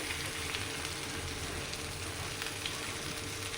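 Sardines coated in pepper and lime juice fry in a pan with an even, close sizzle of hot oil that holds steady throughout.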